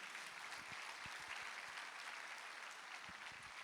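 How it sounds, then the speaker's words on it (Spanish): A Spanish-speaking church congregation gives a strong round of applause during a sermon, a continuous, rushing patter of clapping that sounds faint and distant. "Alguien dale un aplauso fuerte al Rey."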